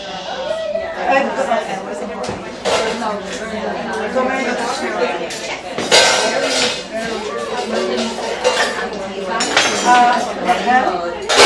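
A pot lifted out and handled in a kitchen while making Rosh Hashana soup, with metallic clanks and clinks of cookware and utensils coming through busy, ongoing conversation.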